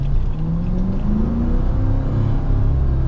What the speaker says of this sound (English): I know you guys can hear those loud pipes